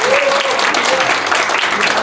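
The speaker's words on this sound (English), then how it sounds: "Well, give some clap." Audience clapping at the official launch of a skills apprenticeship centre in Malaysia, a brief dense burst of applause with some voices mixed in.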